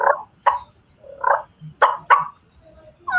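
Mouth call imitating a turkey purr by fluttering the tongue, a series of short rolling bursts separated by pauses, close and fairly quiet.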